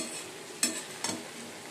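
Potatoes for aloo dum being stir-fried in a pan, with a low steady sizzle and two brief scraping stirs of the spatula, faint and close.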